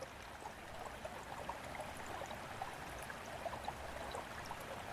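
A clear mountain stream flows through the dark night, a soft, steady wash of water with faint trickling detail, continuous and even throughout.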